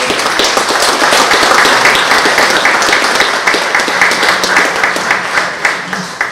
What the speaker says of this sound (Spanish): Les pido un aplauso para nuestro invitado.